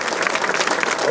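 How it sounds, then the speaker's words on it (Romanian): Audience applause at a kickboxing event press conference, a short steady burst of dense clapping from a crowd. "Haideți să-i aplaudăm!"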